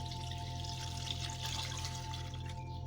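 About two litres of water pour steadily into a cooking pot of salted mutton stock for Pakistani mutton pulao, a continuous, even splashing rush heard close up without speech.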